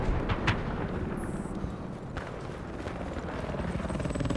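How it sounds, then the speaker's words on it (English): An enemy helicopter in the Battlefield 4 video game on Xbox One, a steady loud whirring rotor drone with a few sharp bangs near the start, no talking. "Enemy helicopter spotted."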